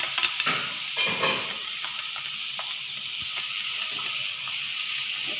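Fried chicken being stirred into butter chicken sauce in a pan, with a steady sizzle under scraping spoon strokes, close and fairly loud, no talking.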